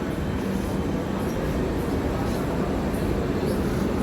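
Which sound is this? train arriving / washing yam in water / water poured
train arriving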